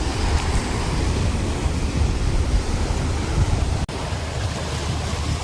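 Sea waves surge at high tide against the rocky shore of Madh Island, Mumbai, forming a constant, loud, rushing wash with no voices.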